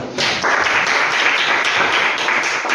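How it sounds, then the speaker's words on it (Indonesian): A burst of applause from a group, steady clapping that starts abruptly and continues for a few seconds. "Tepuk tangan untuk Imo."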